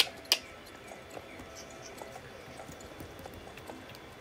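Horse hooves canter in Star Stable, a light, even clip-clop rhythm of soft repeated thuds at moderate distance, fairly quiet over faint ambient background, with no talk.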